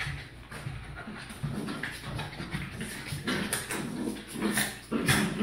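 Two dogs play-fighting up close, with steady growls, yips and whimpering scuffles that swell louder toward the end, no talk over them.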